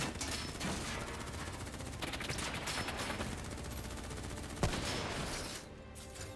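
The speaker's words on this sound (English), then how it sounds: "Who's shooting?" Dense, continuous automatic gunfire from a firefight in the video game Call of Duty: Black Ops 3, loud and sustained with rapid overlapping shots and one sharper crack near the end.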